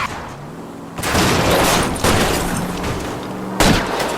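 Gunfire from L.A. Noire during a rain-slicked car chase: loud broadband shots burst in at about one second and again near 3.6 seconds, over a continuous low engine rumble, with no talk.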